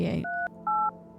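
A telephone keypad in a video game beeps out a neighbor's number, two distinct dual-tone presses after a brief muffled sound, clean and close.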